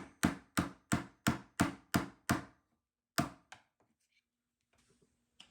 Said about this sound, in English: grab a hammer and pin punch tool, and we're going to punch out the pin right here in the back